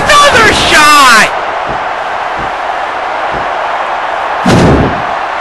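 Steel chair shots at a wrestling event, two loud metallic crashes separated by a few seconds, heard over crowd noise with a couple of duller thuds in between.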